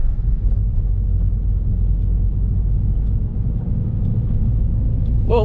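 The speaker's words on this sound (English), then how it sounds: "Audi TT. Yep. With the wing." An Audi TT sports car fitted with a rear wing passes on a rainy Montreal street, a steady low road rumble holding throughout with a faint higher whine at the very end.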